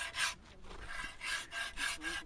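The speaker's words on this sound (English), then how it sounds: "makes the texture smoother, getting ready for finer sanding and ultimately polishing." Rhythmic abrasive rubbing of sandpaper on a springstone sculpture, several strokes back and forth with short pauses, steady and close.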